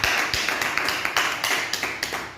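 Audience applause in a hall, a burst of fairly brisk, even claps fading slightly toward the end.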